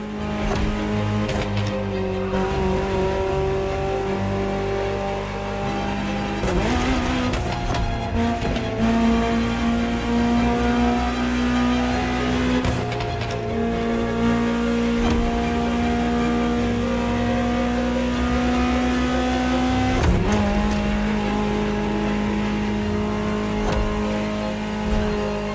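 A Ferrari engine drones loudly and continuously in The Crew Motorfest racing game, holding a steady pitch and stepping up through a couple of gear changes, with no voices.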